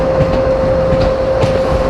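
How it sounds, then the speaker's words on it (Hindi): An ICF coach of the Shramjeevi Express rolls over the track, giving a loud, steady rumble with soft rhythmic wheel clatter and a constant tonal hum running throughout. "ICF ट्रेन में आने का ना एक फ़ायदा होगा, जो आपको ट्रैक साउंड मिलता है ना, वो बहुत गजब मिलता है"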